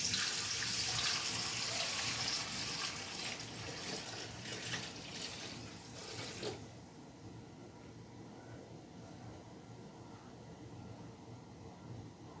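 Water poured from a 14-cup pitcher into a pot for cooking chicken breasts, a steady rushing splash for about six seconds that then drops to a quieter trickle and low background noise.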